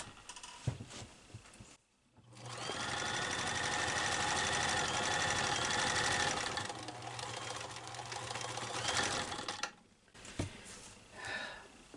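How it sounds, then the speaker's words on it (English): A home sewing machine runs steadily for about seven seconds while stitching a cat collar, a close, even mechanical hum that stops abruptly, with quieter handling noise before and after. "I'm going to start sewing right about here, all the way to the corner"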